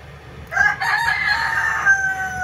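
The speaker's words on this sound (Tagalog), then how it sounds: "maingay din ang manok." A rooster crows nearby, one long drawn-out call rising and holding before trailing off, loud and clear with no talking.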